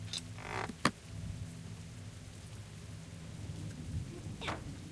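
Steady rain hisses in the background while a low rumble of thunder rolls underneath, with a couple of brief creaks and knocks, in the video game The Walking Dead Season 2; no voices.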